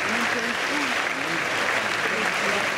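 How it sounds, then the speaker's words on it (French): Theatre audience applauding loudly at a Paris stage show farewell performance, a thick, continuous burst of clapping with faint voices mixed in. "Je veux qu'on l'applaudisse très fort."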